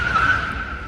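A car's tyres screech as it pulls out of a parking lot, a sustained squealing tone that rises briefly and then holds, with no talk in the clip.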